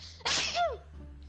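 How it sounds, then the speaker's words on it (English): A single sharp human sneeze during an Overwatch gaming session, a sudden loud burst with a brief vocal tail, close to the microphone, against quiet background hum. "Sorry. I sneeze a lot at work."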